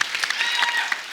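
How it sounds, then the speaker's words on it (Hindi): A studio audience on a comedy talk show claps in a brief, dense burst. The applause is bright and crackling, moderately loud, and tapers slightly within about a second. "जोरदार ताली"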